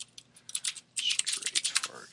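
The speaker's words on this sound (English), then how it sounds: "let me type this into Google so I don't" Fast typing on a computer keyboard, bursts of crisp clicking keystrokes with brief pauses, close and fairly loud, no talking.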